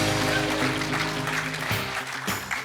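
An audience applauds steadily at a live competition event, a sustained wash of clapping over a faint musical backdrop that thins slightly toward the end.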